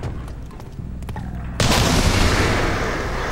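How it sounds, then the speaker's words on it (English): In F.E.A.R. 3 co-op play, a grenade is shot and bursts: faint clicks and quiet game ambience, then a sudden loud blast halfway through that keeps rumbling and roaring to the end. "There's a grenade in this that I could shoot."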